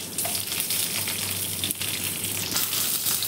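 Green chillies, ginger, garlic, curry leaves and onion frying in oil, a steady close sizzle with a low hum running beneath it, continuous with no talk.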